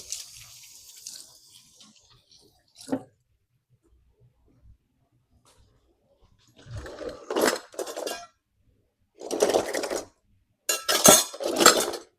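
Metal kitchen utensils clink and rattle in short separate bursts while someone hunts for an ice cream scoop in a home kitchen, with a faint rustle at the start and quiet gaps between the clatters.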